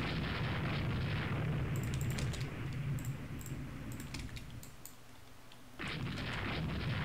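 Naval gunfire in Rule the Waves 2, a dense continuous rumble of distant heavy guns with scattered sharper reports, easing off midway before the roar swells back.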